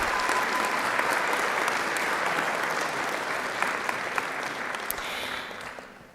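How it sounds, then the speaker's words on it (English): Audience at a university honors convocation applauding an award winner, a full and steady wash of clapping that holds for about six seconds, then fades out at the close. "You can clap."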